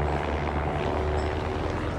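A helicopter drones steadily overhead along a hot mountain pilgrimage trail, its low rotor thrum and engine roar loud and continuous with no talk.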